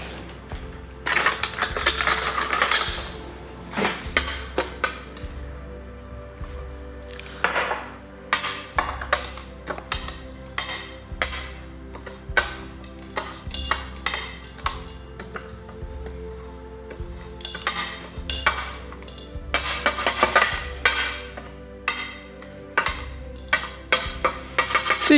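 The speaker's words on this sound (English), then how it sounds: "I'll also crush slightly these cinnamon sticks." Cinnamon sticks being crushed, with close, repeated scraping, grinding and knocking on a hard surface in irregular bursts, some sharp clinks and a faint steady hum underneath.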